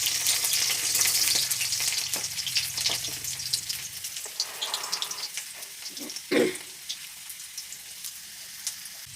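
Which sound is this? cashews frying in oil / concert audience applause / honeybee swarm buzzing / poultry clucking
cashews frying in oil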